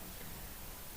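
Steady rain falls outside, a dense, even hiss that fills the background with no voices over it.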